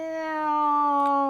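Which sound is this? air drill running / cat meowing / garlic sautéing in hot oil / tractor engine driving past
cat meowing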